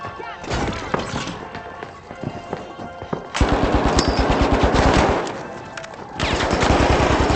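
Rapid automatic turret fire in the arena shooter The Finals, loud close bursts of rattling shots in several long stretches, with brief pauses between them and other game sounds underneath.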